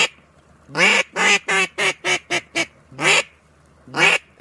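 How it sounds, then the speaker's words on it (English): Mallard duck calling at a hunting spot with decoys, a close, loud run of about ten quick raspy quacks in a descending rhythm, then a short pause and one more quack, with no talk. "Oh, that's just another mallard call."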